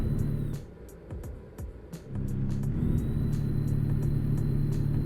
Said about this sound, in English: Oh, hear that roar of this engine. I love it.